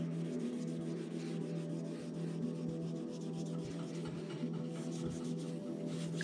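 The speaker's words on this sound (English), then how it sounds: "We're going to take that, clean it up with some wax and grease remover." A cloth wipes wax and grease remover over the surface of a bowling pin being custom painted, producing a soft, continuous rubbing hiss with faint rhythmic strokes, close and quiet, without talk.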